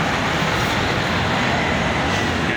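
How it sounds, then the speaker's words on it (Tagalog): Busy roadside traffic on a city street in Zamboanga City, noisy motorcycles and other vehicles making a continuous loud rumbling wash close by, with no voices. "Ang ingay ng mga motor, master."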